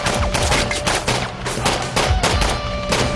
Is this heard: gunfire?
yes